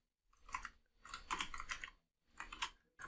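Typing on a computer keyboard: three close, quiet bursts of rapid keystrokes separated by short pauses, with nothing else heard.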